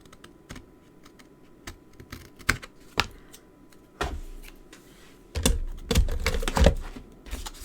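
Excess card stock is trimmed away with a craft trimmer, giving irregular close clicks and scraping strokes that grow louder and busier toward the end, with no voices.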